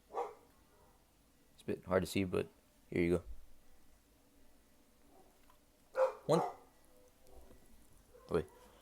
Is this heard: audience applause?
no